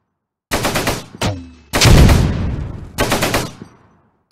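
Video-game gunfire with loud, close bursts of rapid automatic fire, a short single crack, then a heavier sustained volley and another rattling burst, with no talking.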